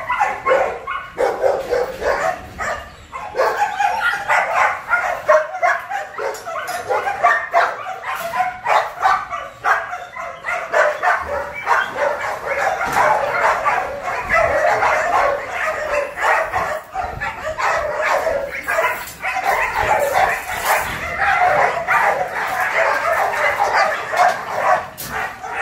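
Male Malinois and Rottweiler breeding dogs bark continuously in a kennel, a chorus of overlapping barks and yips at steady close range with no gaps.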